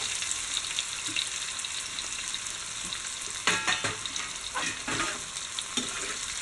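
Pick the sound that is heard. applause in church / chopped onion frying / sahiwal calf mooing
chopped onion frying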